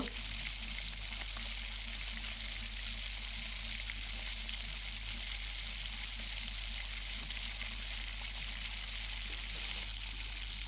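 Pav bhaji masala cooking in separated oil with added Kashmiri red chilli, a steady, even sizzle and bubbling that continues without a break beneath a low background hum.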